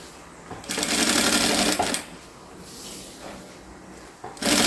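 A sewing machine runs a quick safety stitch while attaching binding to a placemat, heard as two close, loud bursts of rapid mechanical stitching separated by quieter handling noise.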